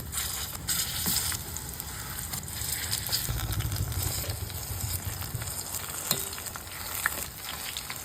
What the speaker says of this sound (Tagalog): Bago nga ako maggisa, pinrito ko nga muna itong mga saging na saba.